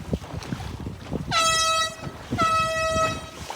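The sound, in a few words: two air horn blasts signalling a general recall at a Sunfish sailing race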